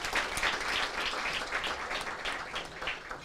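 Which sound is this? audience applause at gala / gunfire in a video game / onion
audience applause at gala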